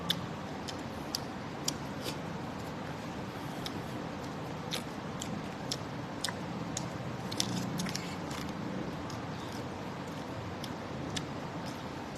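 Someone eats stir-fried luffa with rice close to the microphone. Soft chewing and smacking run steadily throughout, with scattered sharp clicks and crunchy bites over a quiet background and no talk.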